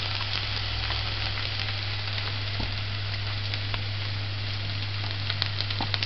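Onions sauté toward caramelizing in a pan for corned beef stew, crackling with a loud, continuous close sizzle over a steady low hum, with occasional small pops.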